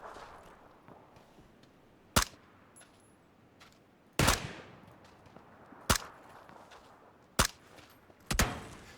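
Sparse single gunshots in PUBG, five sharp distant cracks spaced a second or two apart over a quiet ambient bed with faint movement.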